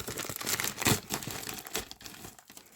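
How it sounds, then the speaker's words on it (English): Plastic packaging for keyboard fidget toys from Pacific Paradise crinkles and tears as it is opened, a close, busy run of rustling and ripping with one louder burst near the middle and no talk. "So let's open it."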